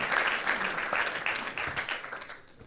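Audience at an awards event for the year's best watches applauding an editor-in-chief being introduced, a steady crowd clapping at moderate-low level that slowly tapers off toward the end.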